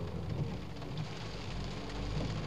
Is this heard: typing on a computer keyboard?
no